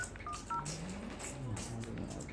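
An Itel 5026 phone dials a call, giving two short DTMF keypad beeps early on over a steady low hum and background noise.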